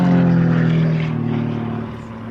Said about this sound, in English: Incredibly strong aeroplane, stressed to plus and minus 23 G.